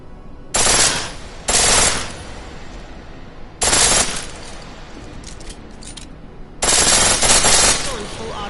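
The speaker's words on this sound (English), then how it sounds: "Pistol in full auto will take down targets fast, but it'll burn through your ammo." A pistol firing on full auto in the Deus Ex video game, four loud, sharp bursts of rapid shots separated by pauses of quieter background, with the last burst lasting longest.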